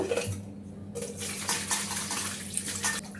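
Cut prawns being rinsed in a bowl of water, with splashing and sloshing and small clinks of a dish or utensil, close and moderately loud, with no talking.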